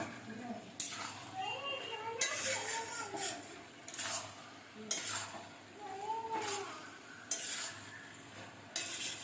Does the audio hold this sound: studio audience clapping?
no